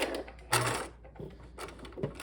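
A sewing machine back-stitching the end of a backpack strap gives short bursts of rapid mechanical stitching, starting and stopping a few times, close by with brief pauses between runs.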